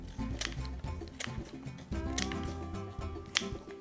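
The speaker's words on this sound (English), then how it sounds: "we're just going to trim those with scissors" Several sharp scissor snips trimming artichoke spines at an uneven pace, close and fairly quiet, with light handling noise between cuts.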